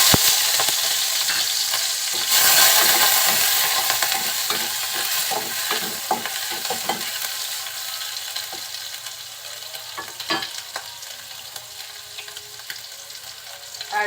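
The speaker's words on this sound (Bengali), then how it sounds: "তেলটা একটু হালকা গরম হলে আমি দিয়ে দিচ্ছি এর ভিতরে চিংড়ি মাছ।" Shrimp drop into lightly heated oil in a pan for a red amaranth stir-fry, setting off a loud, steady sizzle broken by scraping stirs and small clacks, the crackle easing a little as the cooking settles.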